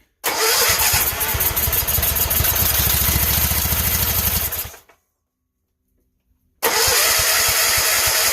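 An engine with messed-up carburetors cranks and fires briefly on starter fluid, a loud sputtering burst for about four and a half seconds that dies away, then silence before cranking resumes.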